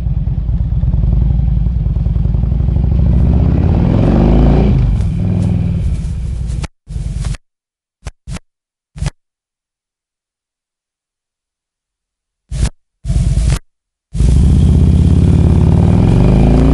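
The engine of a 2007 Harley-Davidson Road King Classic motorcycle rumbles loud and close, cuts out into several short dropouts and near silence, then returns to a steady running drone.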